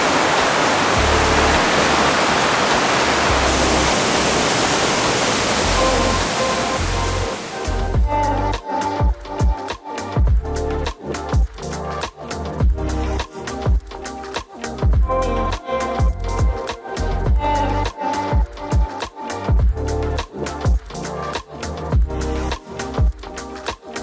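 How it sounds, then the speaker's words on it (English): Zapata Falls, a waterfall in Colorado, roars as a steady, loud wash of falling water, then gives way to a denser, choppier rush with splashing bursts nearer the cascade. "that was Zapata Falls, or however you say it"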